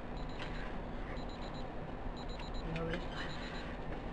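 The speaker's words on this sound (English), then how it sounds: "There's the timer going off." A kitchen timer beeps in short repeated bursts while steeping coffee, faint and partly under a person talking.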